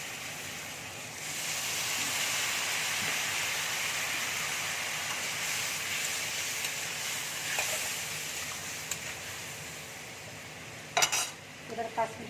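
Spiced potatoes fry in a pan with a faint, steady sizzle. Water is added, and near the end a few sharp clinks of a utensil sound.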